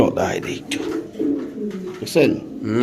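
Soft, repeated cooing of a female pigeon, low throaty warbles rising and falling, mixed with a voice speaking nearby.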